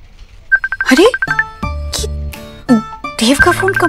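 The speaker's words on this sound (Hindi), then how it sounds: "देव का फोन कंप्यूटर पे कैसे आ रहा है?" A synthetic ringtone from an incoming call on a computer repeats its chirping melody while nearby voices talk over it, the tones pausing and returning.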